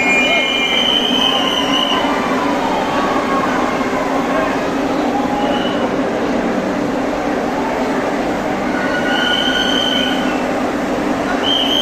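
A Vande Bharat Express on its first trip from Chennai to Nagercoil via Madurai runs steadily, a loud continuous rumble of wheels on rail with intermittent high squeals from the wheels, close and unbroken throughout.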